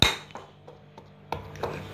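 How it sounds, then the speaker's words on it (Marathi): A dough ball of urad dal papad dough pounded in an oiled mortar with a pestle: about six dull, hollow knocks at a slow, uneven rhythm, close and fairly soft, without speech. "आपण हा गोळा असा कुटून घेऊया"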